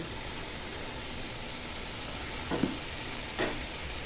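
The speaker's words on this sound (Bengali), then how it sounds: "এখন দারচিনি, কয়েকটা লবঙ্গ আর তেজপাতা একসাথে দিয়ে দিব।" Cinnamon, cloves and bay leaves fry in hot oil for a beef bhuna, making a steady, broad sizzle throughout with two brief clinks or stirring knocks near the end.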